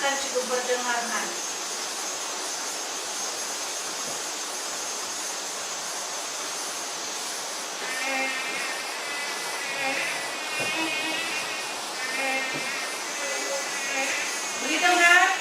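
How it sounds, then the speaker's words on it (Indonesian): A high, steady whine of an Aedes mosquito buzzing, played back during a classroom lesson, droning continuously at moderate volume with brief wavering passages near the end, no talk over it. "Nyamuk Aedes biasa berlaku di tempat kita."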